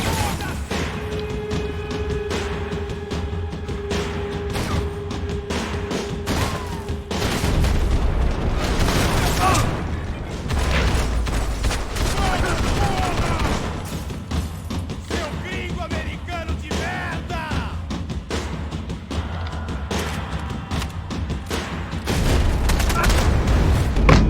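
Automatic rifle fire crackles in the video game Max Payne 3, rapid bursts and booms layered over game music and effects, with someone talking over the action throughout.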